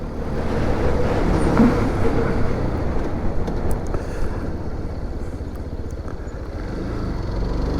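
A SYM NH-X 125 scooter accelerating on the road, its engine droning steadily with wind rush, loud and close, without a break between gears.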